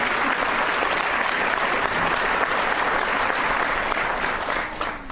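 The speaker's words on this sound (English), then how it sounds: "can we please give a round of applause to Callie?" A sustained round of applause fills a chamber of commerce awards banquet hall, steady dense clapping from the audience that holds evenly for several seconds before tapering slightly at the end.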